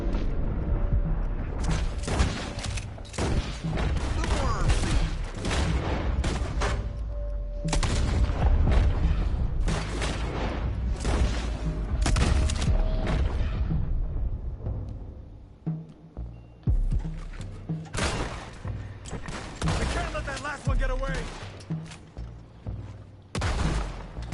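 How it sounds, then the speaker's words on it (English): Sawn-off shotgun fire in Red Dead Redemption 2: loud booming blasts in rapid dense bursts with metallic mechanism clatter between them, the shots thinning out into separate sharp reports in the second half. "It's a sawn-off shotgun, for God's sake."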